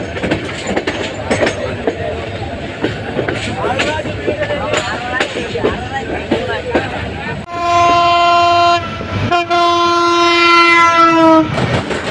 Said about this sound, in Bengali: কক্সবাজার এক্সপ্রেস ট্রেনটি দ্রুত গতিতে এগিয়ে চলছে